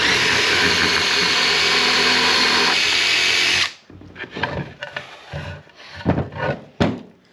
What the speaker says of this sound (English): I'm going to go on and drill 4 holes in a hurry